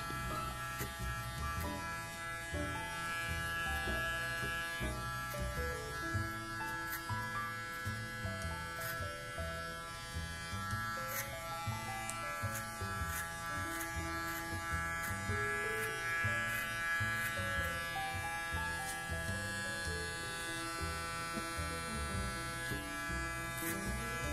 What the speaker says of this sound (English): Now the guard size is 10 and I'm fading the harsh line that has appeared due to the cutting with 8 guard.